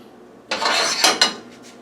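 A large frying pan set out on the stove with a short clatter of metal cookware, a sustained scraping handle then two sharp clanks close by, with no talking.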